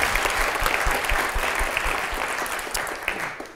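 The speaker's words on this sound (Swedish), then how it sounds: "Vänta, en applåd för Lennart." Audience applause in a lecture hall at a talk on the city as a platform, a dense burst of clapping from a seated crowd that slowly fades over a few seconds.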